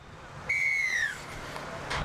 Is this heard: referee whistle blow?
yes